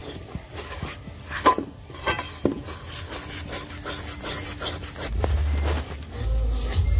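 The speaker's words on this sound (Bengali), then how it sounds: "হাঁড়ির মধ্যে কষলে অতটা সবজি তো গোটা সেদ্ধর মধ্যে যে সবজিগুলো সব একসাথে দিলে মানে মিক্সড হয় না, ওই জন্য আমি কষে দিচ্ছি।" Spices and vegetables sautéed in a pot give off a steady close rub and scrape of a spoon stirring the mix. Sharper scraping clacks break through now and then, and a louder low rumble sets in near the end.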